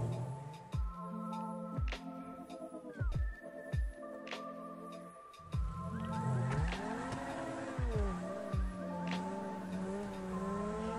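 Supercar in GTA 5 driving with revving engine gear shifts and repeated tire squeals as it corners, close and loud, with no talk.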